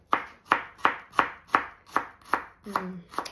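A knife chops shallots steadily on a board, about eight sharp, evenly spaced strokes in quick succession, close and clear, with a brief pause near the end.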